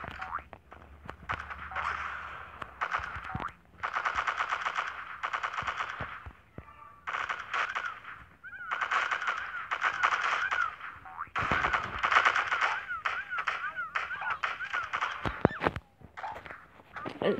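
Automatic gunfire from a Vector submachine gun in the MilkChoco video game, several rapid bursts broken by short pauses, loud and close, with game effects and occasional talk around it.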